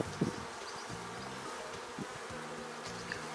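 Honeybees buzzing steadily at close range while a beehive is opened and inspected, a dense continuous drone with a few sharper nearby passes.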